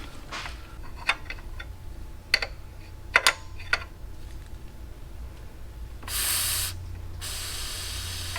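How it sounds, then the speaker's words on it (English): A fuel hard line on a BMW B58 engine, loosened slightly with a 17mm wrench during a valve cover job, gives scattered metallic ticks and taps, then two sustained bursts of sharp hissing as the line depressurizes into a rag. "open it ever so slightly so it's depressurizing"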